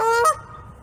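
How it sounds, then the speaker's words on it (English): A goose honks loudly at close range at a zoo, one strong harmonic call lasting about a third of a second before it cuts off into quiet background. "I am way too close to that goose."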